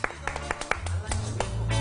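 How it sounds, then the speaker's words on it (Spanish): A handful of sharp, scattered hand claps ring out close by for under two seconds, mixed with voices talking over them. "Un aplauso para Dana Castillo."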